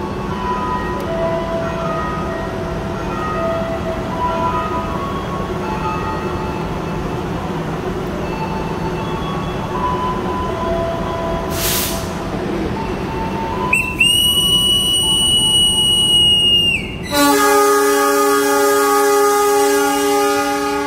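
Indonesian economy-class Joglosemarkerto train on the Yogyakarta–Cilacap route departing, with a steady rumble of the train, a brief high whistle blast near the middle, then sustained loud horn tones toward the end, no talk.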